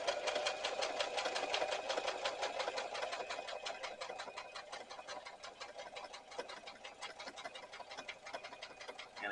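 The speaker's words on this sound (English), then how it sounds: "So I'll start right on that spot. And then I'll stitch to the next" A sewing machine stitches an over-the-seat rifle carrier, running steadily with a fast, even mechanical rhythm that continues without pause throughout.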